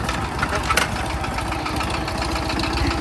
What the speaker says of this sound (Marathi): हा ट्रॅक्टर आहे आपला